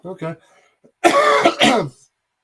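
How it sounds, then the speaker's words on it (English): A short voiced sound, then two harsh, close coughs in quick succession, loud and dry, with silence between bursts. "Still have a little bit of a cough"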